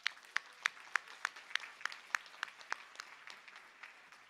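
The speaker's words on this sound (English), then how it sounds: "Take a big round of applause for yourself." Sparse applause at a law school commencement stays faint and distant, with a few individual claps standing out in a loose, uneven rhythm over a quiet room.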